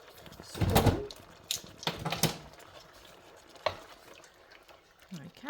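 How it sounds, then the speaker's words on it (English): A spoon stirring mango chicken curry in a pan: a few wet scraping swishes and clinks, close but fairly quiet, with soft sizzling between strokes. "And stir that all up."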